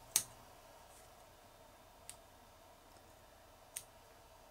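Scissors clip thread butts on a fly being tied, making three small sharp snips spaced a second or two apart over a quiet background.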